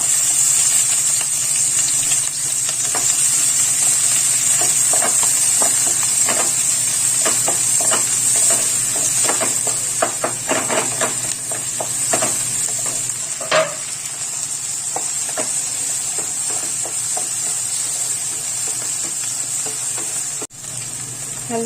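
Chili and onion fry for egg bhurji in a home kitchen, giving a steady, loud, hissing sizzle throughout with scattered stirring clicks and scrapes.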